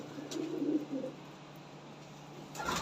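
A Lotan pigeon gives a soft, low coo near the start, faint and close, followed by quiet background and a brief rustle at the end.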